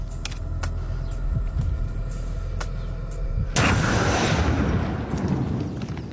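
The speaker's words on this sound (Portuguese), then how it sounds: "Parece que a explosão enviou um tipo de choque através da rocha" A test blast of 30 grams of gunpowder splitting rock, heard as a loud, broad explosive burst followed by sustained rumbling noise, with sharp impulsive cracks beforehand.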